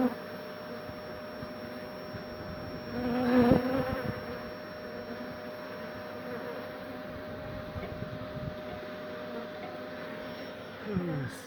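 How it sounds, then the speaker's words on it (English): Honey bees buzz in a steady swarming drone during a beehive relocation, close and continuous, swelling briefly louder at one point. "Got lots of bees flying around now"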